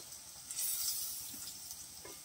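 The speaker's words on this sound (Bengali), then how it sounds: "বৌদি ভাইয়ের উচ্ছেগুলো ভাজা হয়ে গেছে, তাই বৌদি ভাই একে একে উচ্ছেগুলোকেই শুধু তুলে দিচ্ছে।" Bitter gourd and potato pieces frying in hot oil, a steady close sizzle with faint stirring clinks, no voices.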